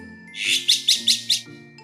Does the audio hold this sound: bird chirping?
yes